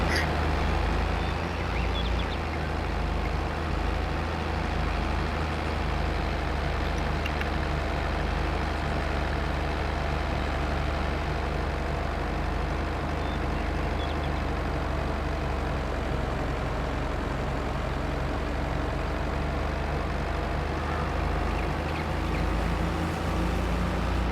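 A farm tractor hauling a heavily loaded dump trailer toward a field, its engine a steady, loud diesel drone with road rumble throughout, close and continuous with no talk over it.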